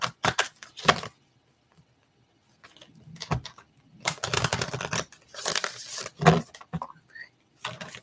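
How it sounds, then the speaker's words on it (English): Cards are shuffled up close in quick riffling bursts, several rounds separated by short silences. "Let me shuffle this again."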